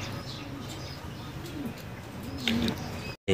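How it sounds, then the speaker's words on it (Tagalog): Racing pigeons cooing softly over a steady outdoor background hum, with a brief cut near the end. "Daan-daanan na lang ako ng mga ibon."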